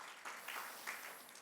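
A church congregation at a Sunday worship service claps, a faint, somewhat distant patter of many hands rising in a few swells across the short stretch.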